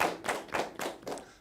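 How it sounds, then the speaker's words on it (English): Studio audience at a Nigerian accountancy TV game show claps in a short burst, several uneven waves of applause over about a second and a half, close and fairly loud with no talking. "A round of applause, please."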